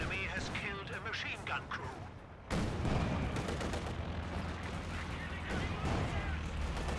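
A T-70 tank fires during a Company of Heroes 2 tournament battle, with repeated booming shots and crackling gunfire. A commentator talks over the whole stretch, and the sound grows louder and denser partway through.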